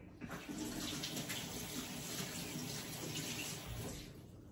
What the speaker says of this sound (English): I just have to wash my hands